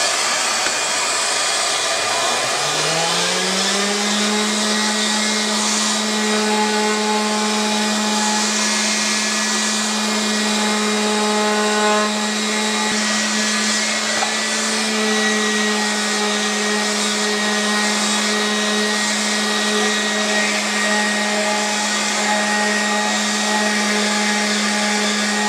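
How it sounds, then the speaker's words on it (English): Belt sander shaping a wooden bandsaw box: a steady loud motor whine that spins up and then holds an even drone for the whole stretch, close by with no talking. "I'll get this over to the belt sander there and work on it a little bit more"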